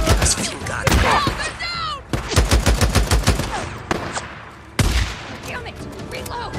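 Gunfire in the Days Gone video game: loud, rapid bursts of automatic fire in several volleys, with shouted voices between and over the shots.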